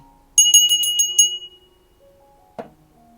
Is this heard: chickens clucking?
no